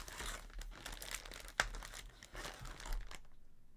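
Tape being handled: a few seconds of crinkling and crackling with a sharp snap partway through, close and moderately loud, with no talk over it.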